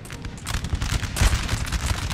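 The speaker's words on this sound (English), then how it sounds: "My main troops, including my militia, open fire." Massed musket volleys from line troops and militia in Napoleon: Total War crackle together in a dense, rolling fusillade that builds to a loud peak midway and then keeps up as scattered overlapping shots.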